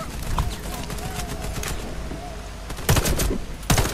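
Burst-fire shooting in the online shooter Warface, with rapid, loud volleys of gunshots near the end following quieter scattered shots and game ambience, heard alone without speech.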